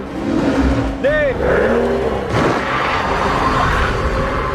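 A Mercedes accelerating hard in a drag race against a Bentley: a loud, continuous engine roar climbing through gears up close, with excited voices talking over it.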